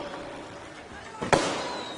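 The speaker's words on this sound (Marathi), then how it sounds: "फटाके मागच्या बाजूला जे फटाके वाजतात ते कृपया थांबवावे" A single sharp firecracker bang cracks out over a faint background hum and distant murmur at a public gathering, then rings off briefly.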